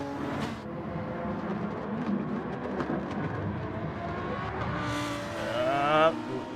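Race cars in a Gran Turismo 7 Manufacturers Cup race: a sustained engine drone with rising revs and a passing car near the end, under a commentator's voice.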